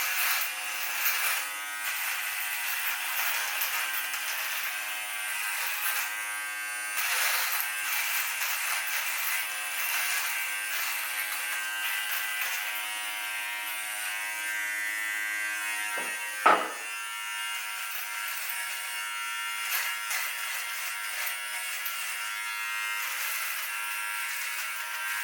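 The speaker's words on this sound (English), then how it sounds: "Okay, so there's your full shaver. Let's put that to work." A 4D 6-in-1 grooming kit's electric shaver attachment runs with a steady, loud buzzing hum close to the mic for the whole stretch, with one brief clunk partway through and no voices.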